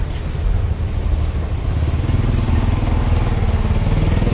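Scooter engines buzz steadily close by, a continuous motor drone with rattling clatter, as if passing or idling in a narrow street in the Old Town of Hoi An, Vietnam.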